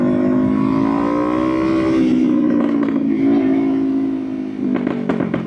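A Kawasaki Ninja 500 motorcycle rides on its first outing after a chain and sprocket upgrade, its engine droning steadily close by with rising and falling revs and a gear shift near the end.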